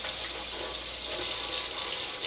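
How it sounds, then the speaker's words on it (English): Barely lukewarm water running steadily from a tap as soil is rinsed off the roots of an over-watered plant with root rot, a close, even gushing wash with no voices. "I'm using barely lukewarm water. I don't want to shock the roots any more than they've already suffered."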